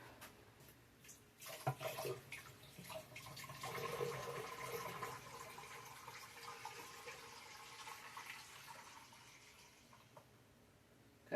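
Water pours into a pressure canner holding a jar of potatoes for home canning, a steady splashing, gurgling stream that runs close and fairly quiet for about ten seconds, then fades out.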